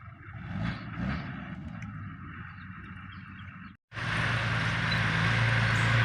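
A 4x4 tractor pulling a disc plough reverses across a farm field. Its engine gives a steady, close diesel drone that cuts out briefly midway, then returns louder and fuller.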